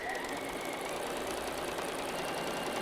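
A sewing machine runs at a steady, even pace close by, its continuous mechanical whir stitching quilt blocks together with a quarter-inch seam through bulky fabric.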